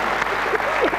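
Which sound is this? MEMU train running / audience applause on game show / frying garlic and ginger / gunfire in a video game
audience applause on game show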